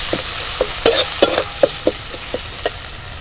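Turmeric and Kashmiri chilli powder sizzle in hot oil in a pan, with a steady frying hiss and a series of short, sharp clinks and scrapes from stirring, close by.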